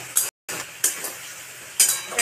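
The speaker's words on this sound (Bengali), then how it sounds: "লবণ, হলুদ গুঁড়ো ভালো করে তেলে নেড়ে দেব।" Salt and turmeric powder being stirred into hot oil while cooking a fish curry, a few quick scraping clinks of a spoon against the pan over a soft sizzle, close and brief.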